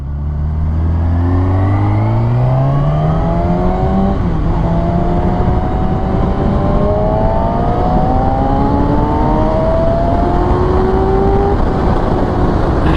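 A 2014 Kawasaki ZX-6R 636 sport motorcycle revs hard in third gear, its engine note climbing steadily in pitch over a sustained loud ride with strong wind rush throughout.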